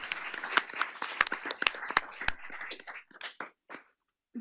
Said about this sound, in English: Let's get a round of applause for José Luis